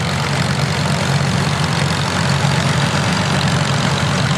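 Big orange vintage Case tractor, a contractor's machine long used for farming in the Queenstown Basin, rumbles at a steady idle in a parade, its low engine drone continuous and fairly loud with no talk over it.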